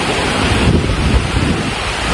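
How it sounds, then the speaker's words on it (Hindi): Heavy rain pours down at Jantar Mantar, New Delhi, in a loud, unbroken roar, dense and close, with a gusty, wind-like rush. "बारिश बहुत तेज आ गई"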